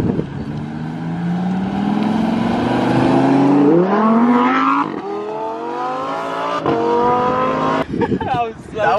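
A tuned BMW 435i and a Lamborghini Performante accelerate hard together from a rolling start, engines rising steadily in pitch through several gear shifts, loud and close before the roar briefly drops and climbs again as the cars pull away.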